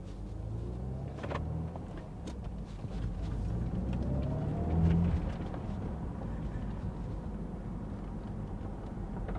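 A BMW Z4 convertible driving with the roof down: low engine rumble and road roar swell slightly midway, with wind noise and a few brief knocks, no talking.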